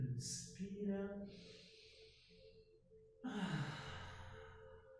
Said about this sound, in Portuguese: Vamos soltar o ar 3 vezes pela boca.